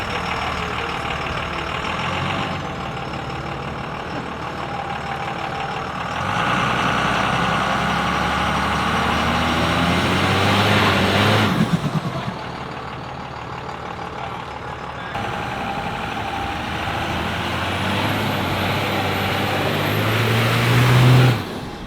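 A second-generation Cummins VP44 diesel pickup truck engine drones steadily while driving, a continuous loud low rumble with swells of acceleration and shifting roar throughout, no voices.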